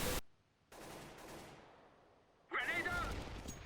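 Counter-Strike pistol gunfire cracks in two short bursts, one at the start and another near the end, with quieter game noise and a voice talking between them.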